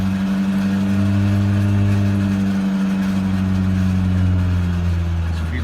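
A Volkswagen A3 with a 2.0 ABA engine runs with a throttle-related malfunction near 1500 RPM, giving a loud, steady engine drone with a sustained low tonal hum that shifts slightly in pitch, with no talk.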